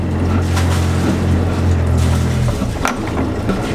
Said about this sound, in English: Then hold down start until the engine fires. To increase your revs, push in the button